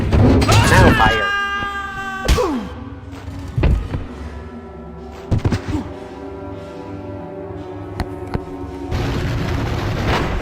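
Cannon blasts in the video game Sphinx and the Cursed Mummy: several booming shots spaced a second or two apart, with whooshing game effects and a tonal sweep at the start, set against a steady game-music bed.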